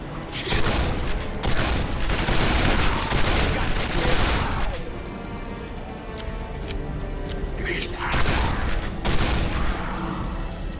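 Shotgun blasts in the Quake 4 game come as loud, booming shots in the first seconds, then a quieter stretch and a few more blasts later, heavy and close.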